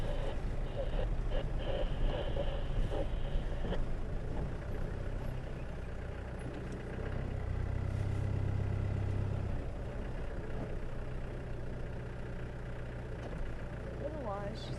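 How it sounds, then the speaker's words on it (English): A safari vehicle's engine idling in a low, steady rumble that runs throughout, moderately close, with faint background sounds over the top. "she maybe remembers the sound of the engine"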